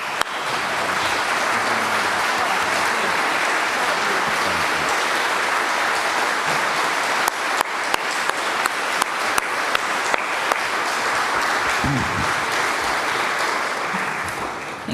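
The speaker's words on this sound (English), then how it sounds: "So I'd like all of us to join in a round of applause to thank Kathy" A congregation at a semi-annual meeting breaks into sustained applause, dense clapping filling the room throughout, with a few sharper claps standing out near the end.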